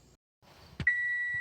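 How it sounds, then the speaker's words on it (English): A kitchen timer sounds with a sharp click followed by a steady, piercing electronic beep that holds on at close range after a moment of near silence. "Oh, timer's done!"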